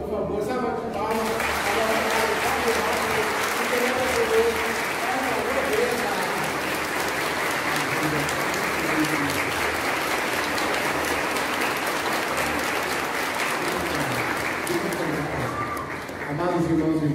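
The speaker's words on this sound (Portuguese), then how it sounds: "salva de palmas" A church congregation at a novena and Mass of Senhor Bom Jesus in Arujá applauds steadily for a long stretch, a broad, even wash of clapping with people talking over it.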